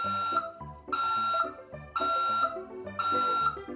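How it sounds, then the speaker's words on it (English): A reversing beeper effect from an LED bike wheel unit sounds four times in a steady rhythm, each loud, high-pitched tone lasting about half a second with short gaps between. "reversing beeper"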